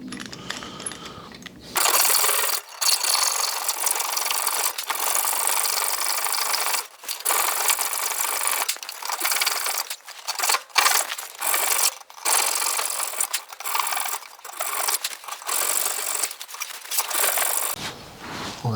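A tool cuts a groove into a steel suspension bush seated in an aluminium arm on an allroad: loud, harsh broadband grinding in repeated bursts, separated by brief pauses and short stops, up close.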